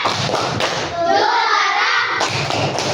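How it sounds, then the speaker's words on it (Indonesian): Elementary schoolchildren in a classroom perform a rhythmic group clapping chant for classmates, loud sharp claps in patterned bursts with a sustained voiced shout in the middle. "kita beri tepuk hebat dulu untuk teman kita"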